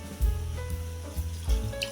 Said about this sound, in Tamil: அப்புறம் இது கூட நம்ம அரை டம்ளர் தண்ணி ஆட் பண்ணிக்கலாம்.